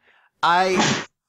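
A single short, explosive sneeze after a brief intake of breath, close and loud.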